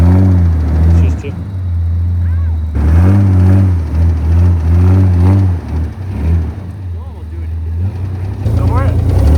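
Truck engine in four-wheel-drive low revs hard against the brakes, a loud, steady low drone that surges and falls in repeated pulses, with excited voices talking over it throughout.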